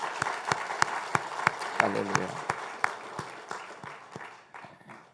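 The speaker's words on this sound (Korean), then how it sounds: "우리 하나님께 우리 영광의 박수도 한번 쳐볼까요?" A church congregation at a Sunday service claps in short, sharp bursts, loud at first and gradually tapering off, with a speaking voice briefly heard over the clapping.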